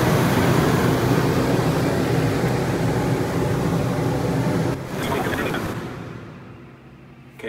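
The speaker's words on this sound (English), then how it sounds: "Now I definitely can hear the generator running." Westinghouse WGen3600DF dual fuel generator running with a 15,000 BTU air conditioner load, a loud steady broadband engine drone that dips and fades after a few seconds as the load changes.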